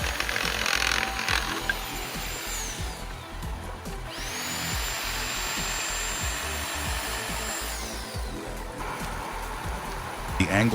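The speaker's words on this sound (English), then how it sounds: "Like this chainsaw" A power tool runs loudly and steadily, its high whine rising and falling in pitch over constant rough mechanical noise.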